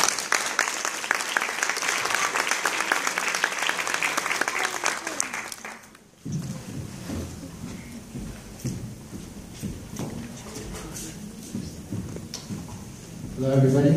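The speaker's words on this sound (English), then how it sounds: "So let's give a warm round of applause to my man," A live audience gives a warm round of applause for a motivational speaker being introduced; dense, loud clapping runs for about six seconds, then cuts to quieter room sound with a voice speaking and a brief rise at the end.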